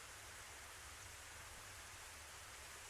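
Steady, dense rainfall pours without pause in the visual novel If My Heart Had Wings, a loud, even hiss with no voices over it.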